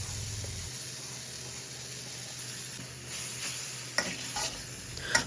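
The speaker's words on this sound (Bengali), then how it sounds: "নারকেল কোড়াগুলো খালি কড়াইতে হালকা করে ভেজে এবার দিলাম থেতো করে রাখা আমগুলো" Grated coconut and crushed mango cooking in a kadai, giving a soft, steady sizzle with occasional clinks and scrapes of stirring, close but fairly quiet.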